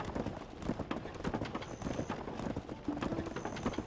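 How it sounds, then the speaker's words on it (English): Wagon horses clip-clopping in the Black Desert online game, a brisk steady rhythm of hoofbeats pulling a wagon, moderately close with faint game ambience and no talk. "Yeah, I got the wagon and then 2 wagon horses."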